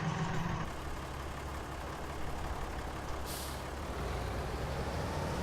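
Ford 7710 tractor fitted with a front loader in Farming Simulator 19, its engine running as a steady, loud low diesel drone with no breaks, no one speaking over it.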